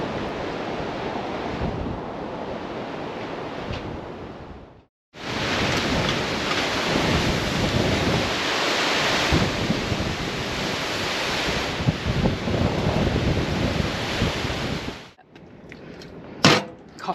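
Loud, constant roar of strong wind buffeting a parked van in Spain, broken by a brief lull midway, with rattling and thumps toward the end.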